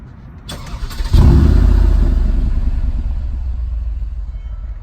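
A Mercedes G63 AMG engine fires up with a sharp bark and settles into a deep, loud, rumbling exhaust idle close by, with no one speaking.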